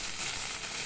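A brief burst of fine crackling sizzle as curry leaves fry in hot oil for chicken kuzhambu, steady and close.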